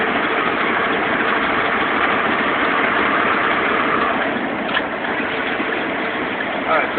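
Heavy truck engine in eighth gear of a 9-speed gearbox, labouring steadily as it pulls a load up a steep mountain grade, a loud continuous low drone close by with a voice talking over it.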